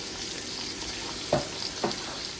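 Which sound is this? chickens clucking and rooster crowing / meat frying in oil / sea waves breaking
meat frying in oil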